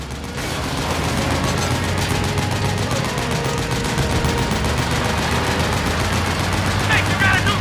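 Sustained rapid gunfire in Metal Gear Solid 4: Guns of the Patriots, dense overlapping automatic bursts running continuously at loud, close range with game sounds and a voice mixed in.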